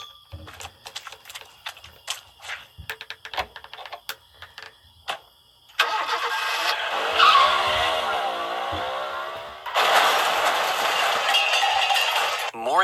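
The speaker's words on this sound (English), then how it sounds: "looks like my car's broken down. Want to give me a tow?" A cartoon broken-down car being towed: rapid clicking and rattling first, then a loud sustained screeching, skidding tire effect that wavers in pitch and surges again near the end.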